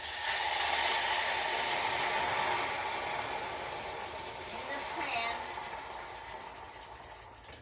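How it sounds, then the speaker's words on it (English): Chicken broth poured into a preheated pan for cauliflower soup gives a loud, broad hissing sizzle that gradually dies down, with someone speaking briefly at the start. "I had my pan heating so it wouldn't take so long to cook it. That's what that sizzle was."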